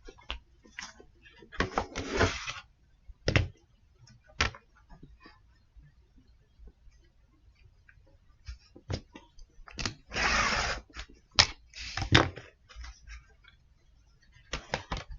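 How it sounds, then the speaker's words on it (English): A rotary cutter slices through folded black fabric into strips, heard as a series of close, brief rolling crunches and scrapes in irregular bursts separated by quiet gaps. "we're done cutting with the rotary cutter"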